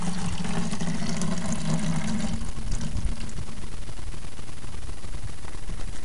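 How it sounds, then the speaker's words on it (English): Rainwater running off a roof down into a garden flow-through system, a steady rushing, splashing pour of water that stays continuous and fairly loud throughout, with no talking. "Rainwater coming off this roof and going down into here."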